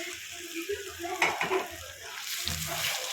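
Chopped raw mango tossed with salt and masala for an instant pickle, a soft, uneven scraping and squelching of stirring up close, fairly quiet throughout.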